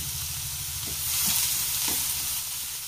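Chopped onion frying in a pan over a low flame for a capsicum mezhukkupuratti: a steady, close, even sizzle with a soft low hum beneath and a couple of faint stirring knocks.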